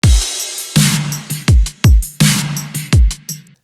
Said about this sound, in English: with hi-hats and tambourines.